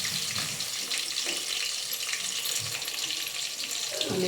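Spices and coriander seeds fry in a pan for a Telangana-style radish pickle, giving a steady crackling sizzle with occasional soft pops throughout.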